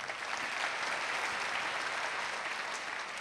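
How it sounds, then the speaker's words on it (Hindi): An audience at a poetry recital gives sustained, even applause, a dense steady wash of many hands clapping together for the whole stretch. "तालियां बजा दीजिए।"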